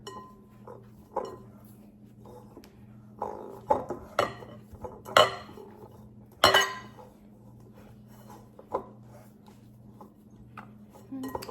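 Mahamri dough with coconut milk being mixed in a bowl, with scattered clinks and knocks against the bowl and a few sharper taps over a quiet background hum; no one speaks.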